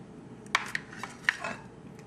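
A few light clinks and taps sound at a bowl as eggs go into a baking mix, sparse and close, with a soft scrape between them and no talking.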